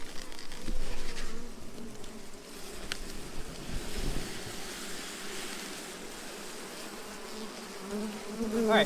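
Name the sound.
honey bees buzzing at an opened hive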